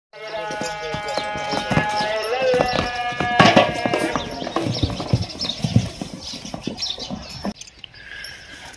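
A dancing horse on a farm in Rajasthan clip-clops in quick irregular hoofbeats close by, with someone talking over the stepping and a melodic tone sounding early on.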